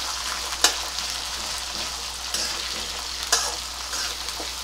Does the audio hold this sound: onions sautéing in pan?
yes